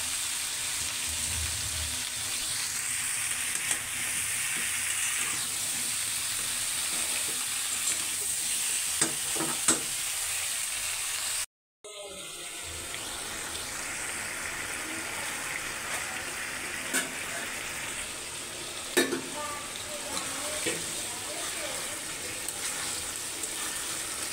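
Spice mixture sautéed in a pan ahead of adding fish, a continuous sizzle broken by stirring scrapes and occasional clinks, with a brief cut to silence midway and faint voices in the background.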